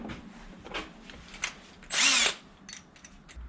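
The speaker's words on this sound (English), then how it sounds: "You want to angle your drill so it's as straight as possible. With metal, go slower than faster." An electric drill bites into a round metal piece during a rockhounding scoop build, giving one short, loud, high whining burst of about half a second amid quiet workshop handling noises.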